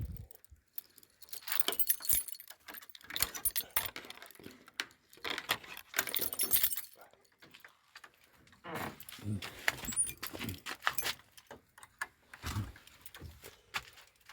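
Keys jangle in repeated bursts, close and fairly loud, with quiet pauses between rattling clusters and some faint voice in the background.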